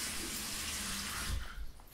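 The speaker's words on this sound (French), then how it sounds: "J'ouvre un petit peu l'eau, il commence à clignoter rouge." Tap water runs into a bathroom sink in a steady hiss and splash that swells briefly near the end.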